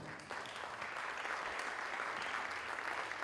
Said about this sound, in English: please give a round of applause to Derek Demeter